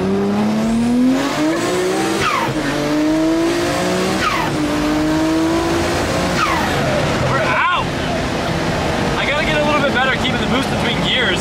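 A Nissan Skyline R34 GT-R pulls hard through the gears, its engine note climbing loudly in repeated sweeps with short drops at each shift and turbo whistle on top, close and continuous inside the car, with occupants talking over it.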